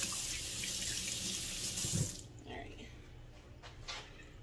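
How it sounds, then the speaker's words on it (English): A kitchen sink tap runs in a steady, close rush while hands are rinsed under it, then the flow cuts off, leaving faint drips and small clatters. "let me get this stuff off my hands real quick before it starts burning my fingers. Rinse it out of my sink too."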